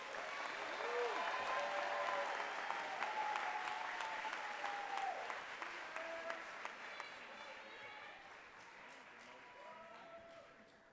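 A graduation audience for an engineering and innovation school claps in a sustained, dense wash of applause with scattered cheers and voices, strong at first and gradually thinning toward the end.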